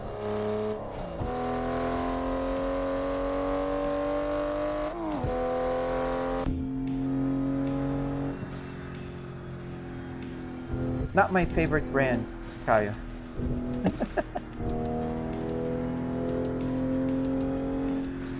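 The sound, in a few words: Toyota Supra MK5 engine in a racing video game simulator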